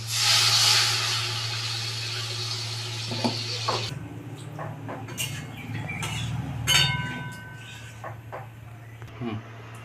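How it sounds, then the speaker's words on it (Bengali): Water poured onto cooked spices in a hot pan for a fish curry sets off a loud hissing sizzle that lasts a few seconds, then drops to a quieter simmer broken by light clinks of a utensil against the pan. "মশলা কষানো হয়ে গেছে আমি এখন জলটা দিয়ে দিচ্ছি"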